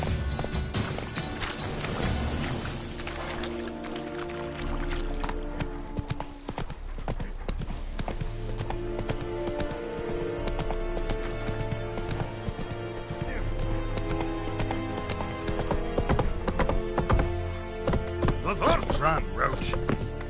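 Roach the horse gallops in The Witcher 3 on PS5, a rhythmic stream of hoofbeats with occasional whinnies, mixed with game music and a voice speaking.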